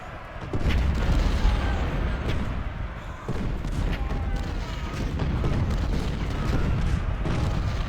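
Massed Civil War artillery, including 24-pounder guns, firing in the strategy game Ultimate General: Civil War at Gettysburg, a continuous rumbling barrage of overlapping booms with occasional distinct thuds, loud and without talk.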